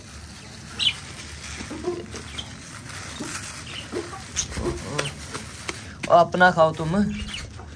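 Chickens cluck and squawk close by while being fed millet, with scattered calls and a short burst of excited clucking near the end, under someone speaking Hindi.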